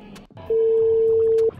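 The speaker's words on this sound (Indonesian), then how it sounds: "Saya coba telepon penerima barangnya." A phone's ringback tone sounds as a delivery driver calls a parcel recipient from a roadside stop. One steady, clear tone lasts about a second over faint street noise.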